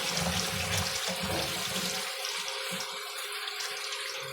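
Water pouring from a tap into a pot of pork being cooked for Filipino adobo chino, a steady splashing stream that sounds filled out at first, then thins and trickles as the flow eases.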